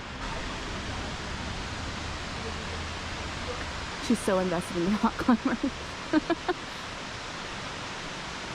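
Shannon Falls in Squamish, British Columbia roars with a steady, broad rushing wash of falling water that runs without a break, while people talk over it partway through.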